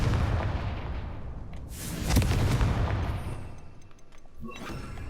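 A Confringo fire spell blast in Hogwarts Legacy lands as a loud booming burst with a rumbling tail, set against a dense, steady game soundscape with further thuds near the end.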